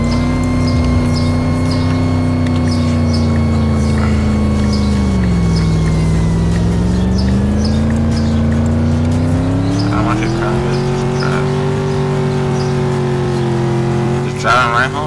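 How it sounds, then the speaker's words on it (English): A car engine drones steadily while driving home at daybreak, its pitch rising and falling gently with speed under a constant wash of tire and road noise, close and loud throughout. "Driving right home right now"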